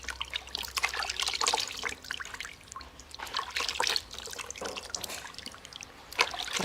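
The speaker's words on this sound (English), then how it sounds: "Rinse with lukewarm water, not hot water." Lukewarm tap water trickles and splashes steadily as a face is rinsed during a home facial routine, close and continuous with uneven bursts of dripping and pouring.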